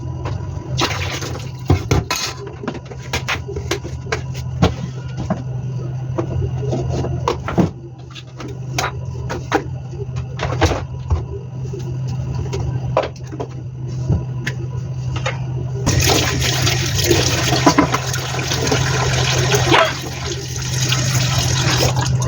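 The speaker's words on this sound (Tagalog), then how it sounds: "Hugas muna ako ng mga kusin" Kitchen utensils washed under a running tap, a steady loud rush of water with clattering knocks and bumps of dishes throughout, the flow growing heavier toward the end.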